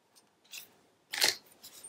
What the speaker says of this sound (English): I'm going to trim one down just to see.